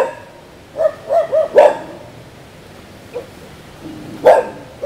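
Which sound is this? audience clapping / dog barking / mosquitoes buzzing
dog barking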